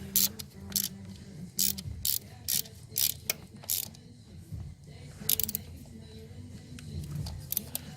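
A ratchet tightens an ignition coil bolt on a 2000 Ford Explorer, producing repeated bursts of rapid clicking strokes, close and crisp, with brief pauses between pulls.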